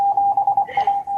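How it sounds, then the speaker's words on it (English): Steady electronic tone pulsing on and off in a quick, uneven Morse-code-like rhythm, clear and close, with a brief higher chirp partway through. "that beeping was like really weirdly soothing."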